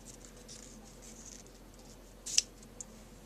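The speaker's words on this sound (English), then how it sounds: "I'm going to give my ribbon a little bit of a snip." Scissors give ribbon a single crisp snip while a greeting card is being made, a sharp short cut after quiet faint handling noise, followed by a softer click.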